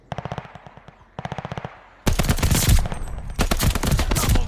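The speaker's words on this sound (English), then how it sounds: "this is a version of the Charlton rifle" Charlton automatic rifle, the Australian Electrolux-made version, firing in Call of Duty: Vanguard: two short rapid bursts, then louder, sustained automatic fire thick with battle noise.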